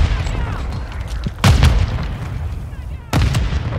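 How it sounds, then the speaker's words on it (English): Two heavy booms from a Semtex grenade exploding in a shooter video game go off a couple of seconds apart, loud and close, over low background game ambience. "Throwing Semtex!"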